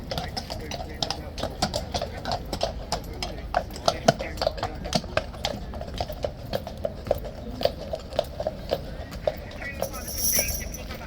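Horses walking on pavement at a Horse Guards gate closure ceremony, their hooves clip-clopping in a steady, uneven stream of sharp taps near and far, under crowd murmur and occasional voices.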